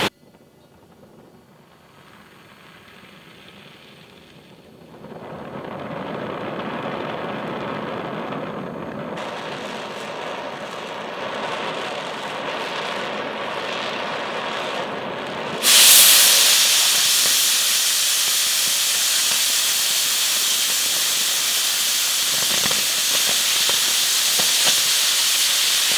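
A power tool cuts through quarter-inch metal, starting as a faint hiss, swelling into a rough rushing noise and then jumping to a loud, sustained harsh hiss that holds steady, close by with no talk.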